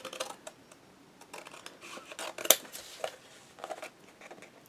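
Scissors cutting cardstock for a large wedding album craft project, a string of quiet, close snips and crisp clicks at an uneven pace, with one sharper cut partway through.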